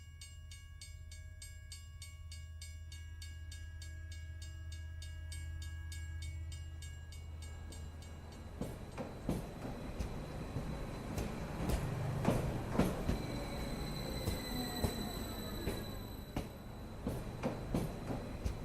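A train sound effect plays during a Hindi one-act stage play: a long, steady rumble with tonal horn-like hums, then clacking wheels and metallic squeals over the rails, continuous and moderately loud.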